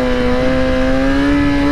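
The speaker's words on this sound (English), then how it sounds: "We're going to pull on the clutch, rev it up, and just dump it." A motorcycle engine held at steady high revs with the clutch pulled in, a loud, close, even drone with no break or drop in the clip, before the clutch is dumped to pop a wheelie.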